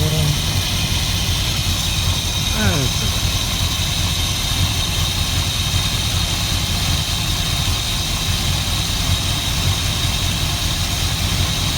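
A 1977 Dodge D150 truck's 440 big block V8 idles steadily, a continuous low rumble that holds the same even level throughout, up close, with faint voice-like sounds briefly audible early on.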